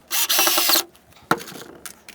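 A power drill fitted with a countersinking bit drives a screw into wood during model railroad leg-spreader construction. The motor gives a loud whirring burst under a second long, then a few sharp clicks and knocks follow.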